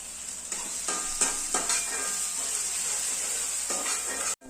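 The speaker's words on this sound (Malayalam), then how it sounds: "ഓണിയൻ ഫ്രൈ ആയി കഴിഞ്ഞ് നമുക്ക് ഇനി ജിഞ്ചർ ഗാർലിക് പേസ്റ്റ് ഇടാം. ഇത് ഒന്ന് സോട്ടാവട്ടെ." Ginger garlic paste sautéing with fried onions in a hot pan, a steady loud sizzle throughout with several scraping stirs of a spoon, ending in an abrupt cutoff.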